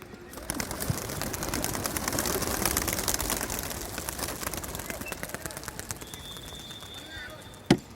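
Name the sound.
pigeons being released from a cage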